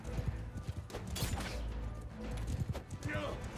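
Horses in mounted combat in Mount and Blade 2 Bannerlord, with rapid clip-clopping hooves and clashing impacts in a busy battle din, someone talking over it.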